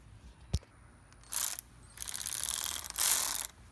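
A ratcheting wrench loosens throttle body bolts on a Mercedes-Benz SLK320, giving a single sharp clack and then several quick rapid clicking runs, close and moderately loud.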